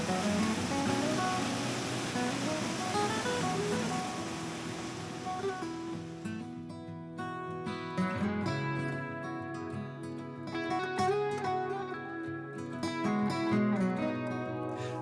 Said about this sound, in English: That's a proof of the amount of rain we've had. Look at the river.